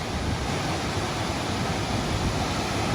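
A spectacular river waterfall near Mount Montague roars as a loud, steady wash of rushing water, constant throughout with no voices.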